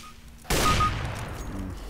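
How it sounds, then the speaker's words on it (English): A single sharp gunshot from a CS:GO match, fired through a box, bursts out loudly from a quiet start and decays into a lingering reverberant tail. "Shooting through the box."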